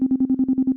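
A synth tone is chopped by the rotor effect in the Things Motor iOS app with a square-wave LFO, producing a fast, hard on-off stutter of about a dozen even pulses per second.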